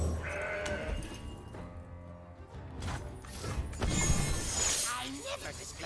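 Mountain goat bleating in the card game Legends of Runeterra, several short cries rising over background music and effects, with a voice talking throughout.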